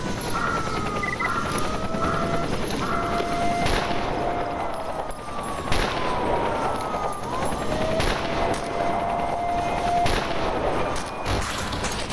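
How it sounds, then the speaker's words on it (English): In Stalker Anomaly, companion Hip shoots: scattered gunshots crack at intervals over a steady outdoor ambience with faint tonal whines, moderately near and unaccompanied by talk. "Hip is actually shooting at it now"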